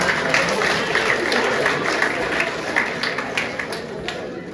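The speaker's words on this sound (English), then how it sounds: "Give him a big round of applause." Dense, sustained applause from a large crowd fills the whole stretch, a steady wash of many hands clapping at once.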